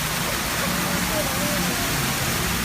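Waterfall beside the Storybookland boat ride at Disneyland, a steady broadband rush of falling water filling the whole clip, close and constant, with faint talk underneath.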